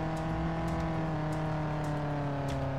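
A car engine in the Roblox RoVille game hums at a steady pitch while driving, an even tonal drone with faint periodic ticks and no voices.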